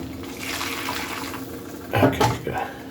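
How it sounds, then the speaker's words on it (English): Broth poured into a pan of lumpy gizzard gravy, a steady liquid trickle with a few louder splashes and glugs near the end. "I'm gonna add a little more broth."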